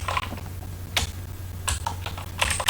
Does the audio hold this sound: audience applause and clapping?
no